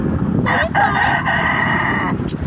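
A rooster in a backyard with hens lets out one loud, close, drawn-out cock-a-doodle-doo that fills the whole stretch, ending with a faint trailing note.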